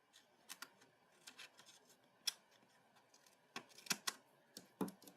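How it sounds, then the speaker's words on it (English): Scissors cut craft paper for a small treat tote box. The snips are faint and sparse and come at an uneven pace. "I'm going to cut there and there. And we're going to cut here and here."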